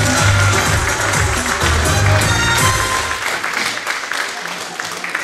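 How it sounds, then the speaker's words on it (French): Audience applause at a modern singing contest festival in the Cévennes, a dense, loud wash of clapping from a crowd filling the whole stretch, with music and a host's voice underneath early on before the clapping carries on alone. "continuez à applaudir, ça fait plaisir"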